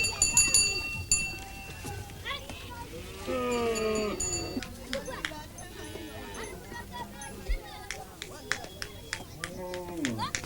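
Cattle and calves low in a rural herd along the Nile, with drawn-out moos rising at intervals among bleats and scattered clatter, some calls near and others farther off, while a narrator speaks over them.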